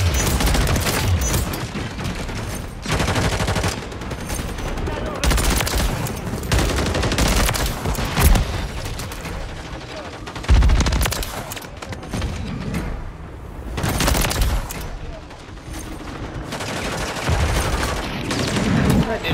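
A turret in Modern Warfare 3 multiplayer lays down continuous heavy automatic fire with repeated booming bursts and thuds. The shooting is loud and nearly unbroken, and a player talks excitedly over it.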